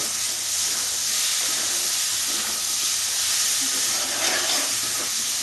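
Water poured into a pan of Bengali-style crab curry masala with Malabar spinach and potato makes a loud, continuous hiss and rush. It holds steady and close for over five seconds, with no voices.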